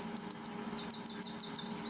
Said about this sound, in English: That's the wren.